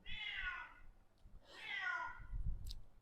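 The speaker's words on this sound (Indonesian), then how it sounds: "abayin ya suara kucing." A cat gives two drawn-out meows, close and fairly loud, separated by a short pause, with a faint low rumble underneath and no talking.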